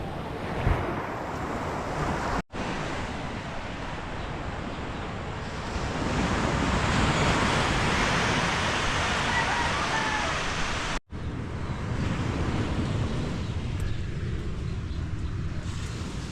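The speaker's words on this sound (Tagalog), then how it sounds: "so dito tayo sa tabing dagat" Waves break and wash steadily onto a seashore in a continuous broadband roar, with wind buffeting the microphone. Two brief dropouts interrupt the sound, and it swells a little louder through the middle.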